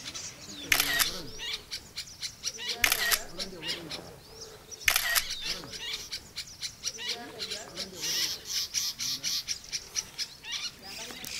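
White-browed sparrow-weavers call in dry Tanzanian bush at Ngaresero, with repeated sharp chattering bursts and bright whistled notes over a steady outdoor background, alongside faint camera-like clicks.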